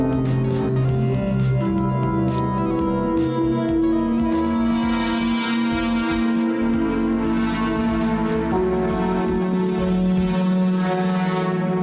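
Moog One analog synthesizer playing a sustained soundscape, a rich droning chord with shimmering overtones and slowly shifting texture, loud and continuous with no talking.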